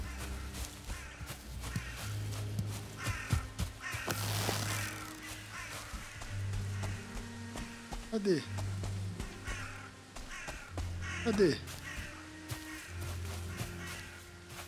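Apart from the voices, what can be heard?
crow cawing in the video game Valheim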